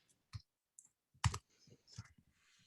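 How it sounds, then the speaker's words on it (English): Computer keyboard typing during an online chat, a few scattered key clicks close to the microphone with pauses between them, fairly quiet and heard alone. "You should really mute yourself when you type."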